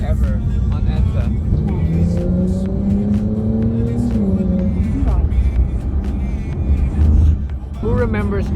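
A BMW M4 drives fast along an empty EDSA. The engine note climbs steadily in pitch under acceleration for several seconds, then drops away before rising again, loud and close.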